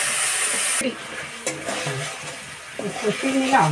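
Spice paste with turmeric fries in a pan, first as a bright steady sizzle and then as softer stirring sounds beneath a voice speaking nearby.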